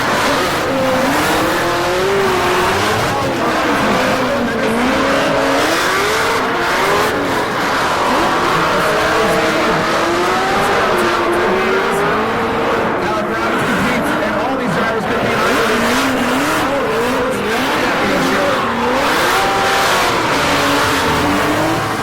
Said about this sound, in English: His tires coming apart there, shredding it till they're dead.